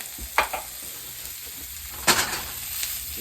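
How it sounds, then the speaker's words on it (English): Carrots, peppers and orange peel sauté in a hot pan with a soft, steady sizzle, broken by a couple of brief, sharper stirring scrapes; no voices. "So we're going to let this saute down."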